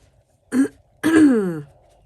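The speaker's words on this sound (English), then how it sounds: "I have to keep clearing my throat" Two close throat clears from allergies, a short one followed by a longer, rasping one, in an otherwise quiet room.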